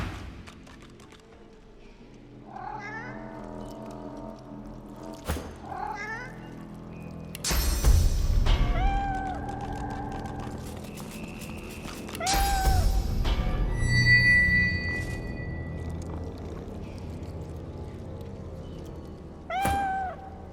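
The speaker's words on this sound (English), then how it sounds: "The undead cat arches its..." Undead cat in the game Divinity: Original Sin 2 letting out repeated drawn-out meows and yowls, loud and close, between sharp game effect sounds and a voice speaking.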